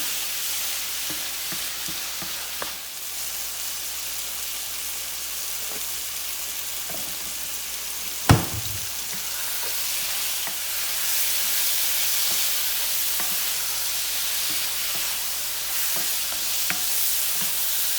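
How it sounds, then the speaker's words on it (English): Sliced squash frying and being stirred in a pan with paprika, a steady loud sizzle with occasional scrapes and clanks of a utensil against the pan, with no talk. "So you just scrape it up and keep it coming in and keep stirring."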